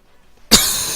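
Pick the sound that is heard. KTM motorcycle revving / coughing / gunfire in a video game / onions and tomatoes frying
coughing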